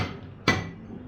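A single sharp thwack of a blade chopping through chicken, loud and close, followed by a faint ringing decay in an otherwise quiet room.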